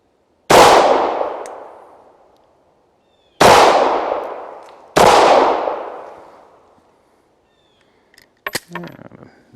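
Three sharp, loud pistol shots from a Beretta 92 at an outdoor shooting range ring out with long decaying echoes, spaced a couple of seconds apart, followed by faint metallic clinks and handling noise.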